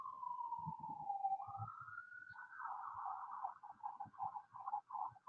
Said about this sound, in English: Can't you knock off the ambulance already?